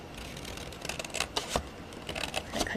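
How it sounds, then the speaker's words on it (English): Scissors cut through paper in a run of crisp, close snips and rustles, an uneven series of small cuts with no voices. "we're just going to take our scissors and we're going to cut that."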